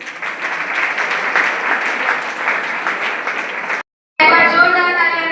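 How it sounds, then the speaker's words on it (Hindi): Loud welcoming applause for a performer at a school Class 10 farewell function, a sustained crowd clap that cuts off abruptly, followed after a short gap by amplified music with a tonal voice. "जोरदार तालियों से आहाना का स्वागत करें।"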